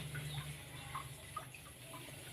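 Water running steadily from a tap in a bathroom while clothes are washed by hand, a continuous wash of splashing flow with a low hum beneath and faint voices in the background.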